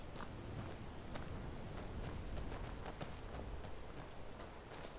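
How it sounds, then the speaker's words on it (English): Rain falls in the Skyrim game world as a steady, soft hiss of drops with faint patters, while muffled footsteps plod along beneath it. "Looks like rain."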